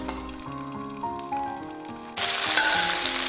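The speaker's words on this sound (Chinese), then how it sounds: "锅中我们再次加入少量的食用油，然后再把我们的辣椒给它倒进锅中。" Green chili peppers hit hot oil in a wok, and a loud, dense sizzle bursts in suddenly after a stretch of background music and then holds strong.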